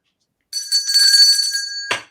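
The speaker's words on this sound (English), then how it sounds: "Got a bell." A bell sound effect rings out with bright sustained metallic tones, ending in a sharp final strike that quickly decays, clear and alone against silence.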